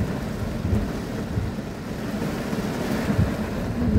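Typhoon wind and heavy rain roar as a steady, dense wash of noise, with gusty rumbling swells and no voices, continuous and loud throughout.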